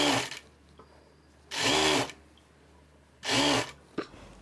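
Sewing machine stitching the neck edge of a blouse in three short bursts of rapid whirring, each about half a second long with quiet pauses between, heard close up.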